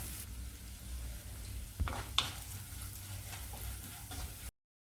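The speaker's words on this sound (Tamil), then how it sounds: "வெங்காயத்தை சேர்த்து வதக்கணும் கருவேப்பிலை சேர்த்து வதக்கலாம்" Onions and curry leaves sautéing in a pan, a soft steady sizzle with a couple of light utensil clicks, quiet and without speech, ending abruptly.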